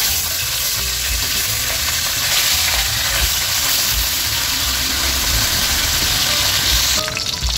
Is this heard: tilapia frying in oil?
yes